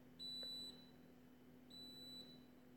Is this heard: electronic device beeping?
yes